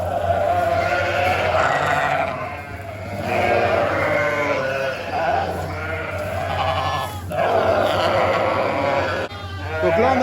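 Ewes that have recently lambed bleat repeatedly in a crowded lambing pen, several voices overlapping over a steady low hum, with a person talking in between.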